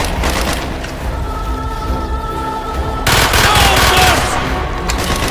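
Gunfire and explosions fill the combat of Call of Duty: Black Ops on Xbox 360, loud and constant, with rapid automatic bursts and heavy booms, while soldiers' shouts are heard amid the fighting.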